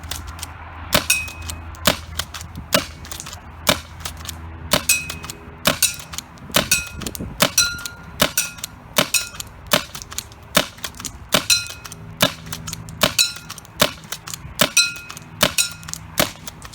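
A Tacamo pump paintball marker fires round after round: sharp, loud pops spaced fairly evenly at roughly one per second, each with a metallic pump clack, nearby and without talking.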